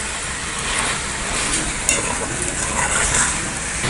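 Chicken and potato gravy frying in a pan while being stirred, a loud, dense, steady sizzle with faint scraping, no talk.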